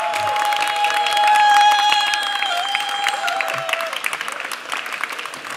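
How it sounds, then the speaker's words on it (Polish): Applause breaks out at a gala awards ceremony in Gdańsk's Stary Maneż, mixed with crowd noise and cheering, while sustained tonal music plays and swells over the hand-clapping, which continues steadily throughout. "Andrzej Wypasek, gorące brawa!"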